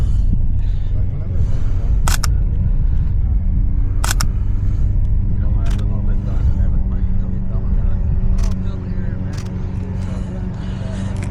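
A DSLR camera shutter fires handheld during natural-light photography of a matte car, sharp single clicks spaced about two seconds apart over a loud, constant low rumble.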